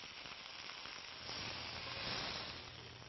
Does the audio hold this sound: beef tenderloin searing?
yes